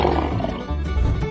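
A cartoon lion gives one loud, sustained roar, close and alone, with a rough growling texture throughout.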